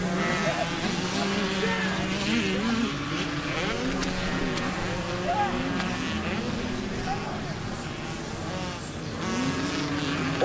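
Small 50cc and 60cc automatic motocross bikes race around a soft, rutted sandy track, their engines droning steadily and overlapping at close range with shifting pitch throughout, while a voice talks over them.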